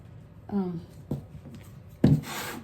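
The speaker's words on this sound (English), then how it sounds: "Get my bench scraper here." A bench scraper scraping sticky dough off a kitchen work surface, making three short rasping strokes, the last one loudest, close and dry against the counter, with no talking.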